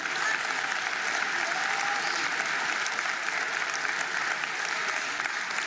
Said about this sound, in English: Let's give them another round of applause indeed.